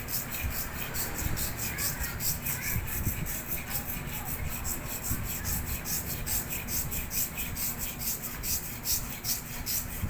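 Scissors being sharpened on a whetstone, with a steady, continuous rasping rub that repeats in quick strokes throughout, close and fairly loud, with no talking.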